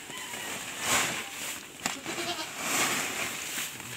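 Goats being fed bleat a few times at moderate distance, with two clearer calls standing out over quiet background noise.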